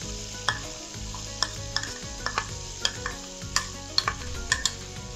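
Cream and 150 g of Swiss cheese being stirred into a sauce for Alfredo pasta, the spoon scraping the pan in a steady run of distinct strokes over a soft continuous sizzle, close and moderately loud, no voices.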